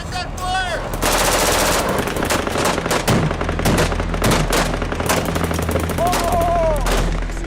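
Machine gun fire during combat in Afghanistan, loud sustained bursts of rapid automatic shots close by, with shouting voices mixed in.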